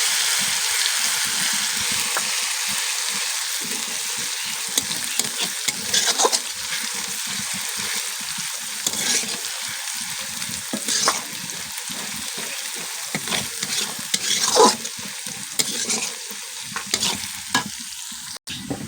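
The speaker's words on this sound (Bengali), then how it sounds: "আদা বাটা দিয়ে দিব, নেড়ে দিব একটু ভালো করে।" Onions and garlic fry steadily in a pan with ginger paste stirred through, a continuous close sizzle broken by frequent scraping stirs, the frying for a chicken curry with papaya and potatoes.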